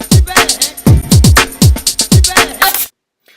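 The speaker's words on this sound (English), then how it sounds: "Channel 2 automatically has auto stretch set to 4 bars and contains a drum break" Sampled drum break auto-stretched over four bars in Ocean 1.0, a loud busy pattern of deep kicks and crisp snares and hats looping steadily, then cutting off to silence.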